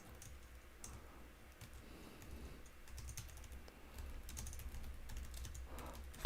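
Continuous soft clicking from keystrokes on a computer keyboard, rapid and fairly steady over several seconds, faint and close against a low background hiss, with no voice.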